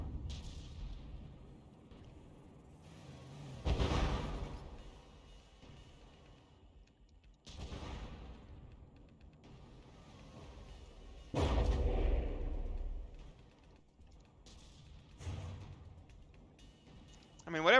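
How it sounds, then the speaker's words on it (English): Tank guns firing in the game From The Depths, heard as a few heavy booming shots spaced several seconds apart, each a loud broad burst that fades over a continuous low rumble of battle noise. "that vehicle over there is definitely still firing"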